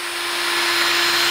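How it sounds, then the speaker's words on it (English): Continuous high-pitched whine of a power drill boring a pilot hole in wood, running steadily, close and loud, with no talking. "all I'm gonna do in the web frame is just drill me a pilot hole"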